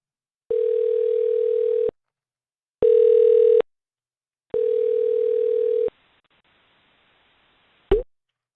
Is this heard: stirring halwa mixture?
no